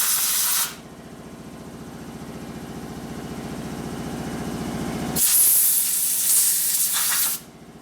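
Accelerator pump on a carburetor from a 1964 Harley-Davidson XL Ironhead Sportster squirting fuel, heard as a short burst of hiss and spray, then a steady quieter hiss with a low mechanical rumble, and a second louder spray burst near the end.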